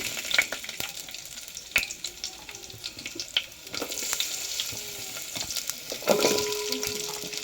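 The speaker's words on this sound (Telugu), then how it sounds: "ఇప్పుడు దాంట్లోకి కూరగాయ ముక్కలు వేసుకుందాము." Vegetable pieces fry in a pan for ulavapindi sambar rice, a soft steady sizzle with occasional stirring clinks and a faint watery running sound in the background, no voices.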